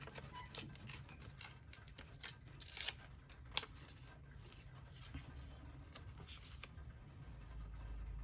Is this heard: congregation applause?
no